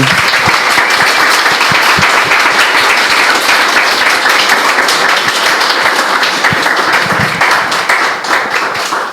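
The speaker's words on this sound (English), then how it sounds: "Everyone can give a little round of applause to the panel" Loud, sustained round of applause from a conference audience for a games industry panel, many hands clapping densely for the whole stretch and tapering slightly at the end, with no talk over it.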